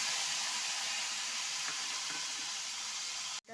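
Onion, garlic, chili and tomato paste sautéing in a pan, a steady close sizzle with no talk that cuts off abruptly near the end.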